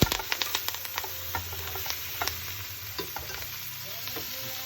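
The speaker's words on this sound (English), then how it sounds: "Put your tongs in it, stir it up a little bit." Tongs stirring chicken soup ingredients sizzling in hot oil in a pot, quick clicks and scrapes of metal over a steady frying hiss, close and moderately loud.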